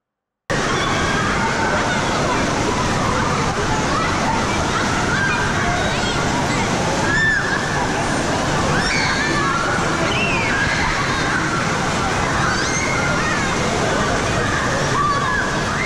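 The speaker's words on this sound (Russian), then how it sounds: "Это бассейн с волнами." Water sloshes and splashes continuously in a wave pool, a dense close wash with faint distant voices and shouts of people in the water throughout.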